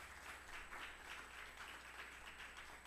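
An audience applauds journalists at the University of Belize Prize for Investigative Journalism ceremony. The faint, distant clapping keeps an even texture for about three seconds.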